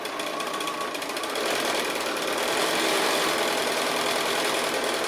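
A sewing machine stitching a quilted table runner made from 2 1/2 inch strips, with a close, steady rapid mechanical whirr and needle chatter that picks up slightly in speed partway through.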